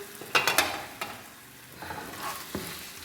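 Chicken pieces with two green chillies frying in a pan over high flame, with a few sharp stirring scrapes early on and softer sizzling and clatter afterwards, close and with no talking.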